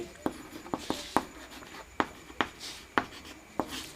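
Marker or chalk writing on a board during a set-theory lesson, a series of sharp, evenly spaced strokes and taps at a steady, unhurried rhythm with light rubbing between them.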